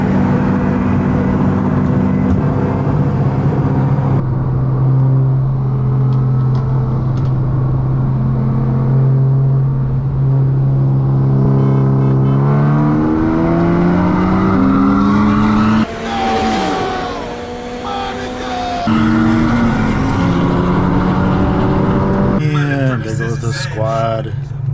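A BMW M340i and a 500hp GTI accelerate hard in a race, a loud engine drone rising through the gears with shift breaks, heard from inside a car while people talk over it.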